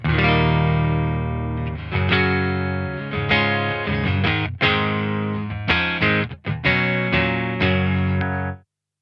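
A clean, unprocessed electric guitar played straight in, without the Walrus Kangra filter/fuzz pedal engaged, plays a series of ringing chords and notes with short pauses, ending abruptly.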